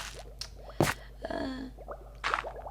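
Dirt blocks set down one after another in a video game to displace water, giving a few soft, muffled squishy plops with watery sloshing between them, close and fairly quiet with no voices.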